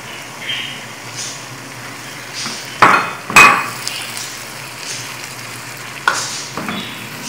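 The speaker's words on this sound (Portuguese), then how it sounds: "Deixa eu dar uma mexidinha aqui." A spoon scrapes and clatters through corn and chopped tomatoes in a hot pan, soft sizzling underneath with a few sharp knocks against the pan, nearby and without talk.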